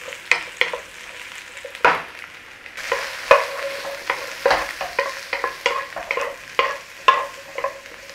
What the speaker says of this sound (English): Once you've got your oil hot, in with your mushrooms.